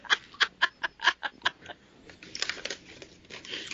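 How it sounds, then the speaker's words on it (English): Crisp crinkling and crackling of paper in quick bursts, first in distinct pops, then a denser rustling scrunch, fairly close. "It sounds like Carl's unwrapping presents."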